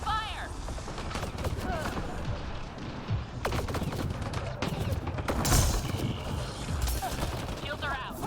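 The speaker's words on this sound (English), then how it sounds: "Enemy fire!" Enemy gunfire in the shooter game Mass Effect Andromeda multiplayer: dense bursts of rapid shots and impacts crackle continuously, fairly loud, with game effects layered in and a voice speaking over the action.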